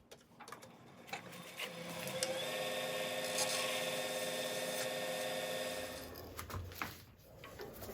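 A pink resin pen blank being shaved down on a woodturning lathe, giving a steady whirring, scraping drone that holds for several seconds, then breaks into sharper taps and scrapes as the cut ends, close and fairly loud.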